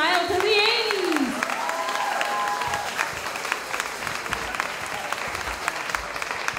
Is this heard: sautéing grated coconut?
no